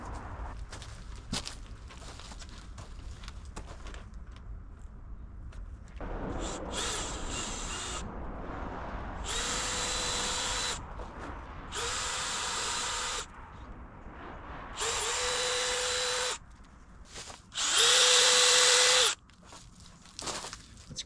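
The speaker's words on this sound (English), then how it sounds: "we got our drill bit, 5/8 inch wood bit, and we're gonna start putting our plugs in." A drill drives a 5/8 inch wood bit into an oak trunk for bark beetle injection plugs. It whines in five or six separate bursts of a few seconds each, with quieter handling and rustling in the gaps.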